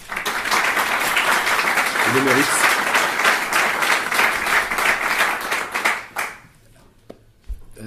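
An audience claps loudly and steadily for about six seconds before the applause fades away, and a voice speaks briefly near the end.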